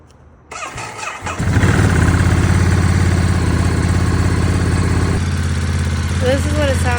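A Ducati Monster 937cc motorcycle with its stock exhaust starts up and settles into a loud, steady, throbbing idle close by, with a slight shift in tone partway through.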